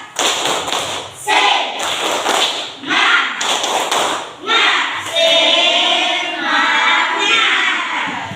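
A classroom of students performs a patterned spirit clap, bursts of loud group clapping in short rhythmic phrases separated by brief pauses, with children's voices chanting along.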